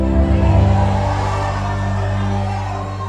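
A church congregation at a sermon shouts and cheers together, a loud, dense crowd roar that swells at the start and holds steady before easing off slightly at the end.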